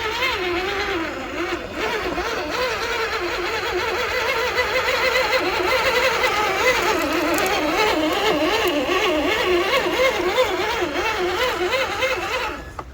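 The electric motors of a Traxxas TRX6 G63 6x6 RC crawler whine and surge as its wheels spin on a muddy bank, a continuous, wavering pitch that rises and falls steadily.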